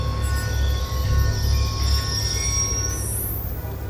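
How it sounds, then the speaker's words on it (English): A train rolls past in the Call of Duty Black Ops II video game, a loud continuous rumble with high metallic wheel squeal rising near the end, no voices. "Ain't getting anything else with that train in the way."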